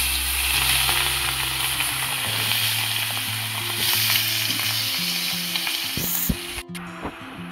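Shrimp coated in salt and turmeric fry with bay leaves and whole dried red chillies in hot oil, giving a steady close sizzle that runs throughout with no talk.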